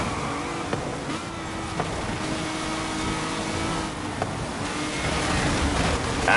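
A race car engine in Forza Horizon 5 drones steadily under throttle, with faint shifts and a swell of acceleration near the end, loud and continuous with no talk.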